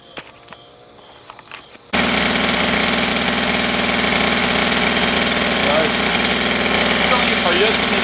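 A two-stroke brush cutter starts outdoors after a quiet moment of small handling clicks, then runs at a loud, steady, buzzing idle, close by, with a voice briefly heard near the end.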